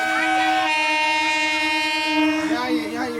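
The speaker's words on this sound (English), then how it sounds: "The train is coming." A train rolls along railway tracks nearby, sounding a loud, sustained horn that holds steady for several seconds before wavering, with faint voices near the end.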